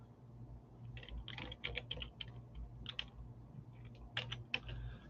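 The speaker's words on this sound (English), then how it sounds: "I'm typing like a second grader." Keys clatter on a computer keyboard in uneven bursts of quick taps with short pauses, close and fairly quiet over a low steady hum.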